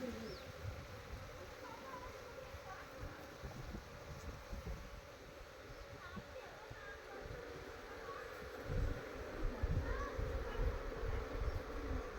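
Honeybees buzzing around an opened beehive box during cleaning, a steady low drone of many insects with some wind buffeting, swelling slightly louder toward the end.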